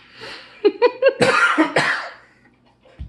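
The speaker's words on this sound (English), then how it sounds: "I'm gonna cough again." A person coughs in a quick burst of several hacking coughs, followed by a rougher, longer throaty cough, then quiet.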